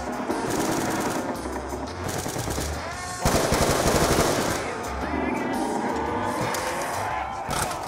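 Rapid automatic fire from Galil and RPD machine guns in a first-person shooter game, bursts of loud, close, rattling shots continuing throughout with a heavier burst midway, mixed with game effects.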